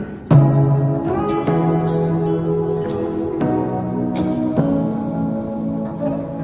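Turmeric and chili powder sautéing in a pan for a vegetarian dhokar dalna: a steady close-up sizzle with soft stirring knocks and scrapes throughout.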